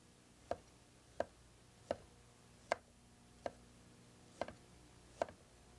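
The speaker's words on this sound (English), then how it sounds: "All you do is to slice them." Ginger being sliced with a knife on a cutting board, seven crisp, evenly spaced knocks of the blade against wood, close by and with no other sound.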